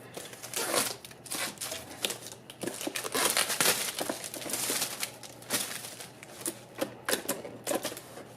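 Packaging of a WONGKUO action camera crinkles and rustles up close, with irregular bursts of plastic and cardboard crackling and tapping in an uneven rhythm.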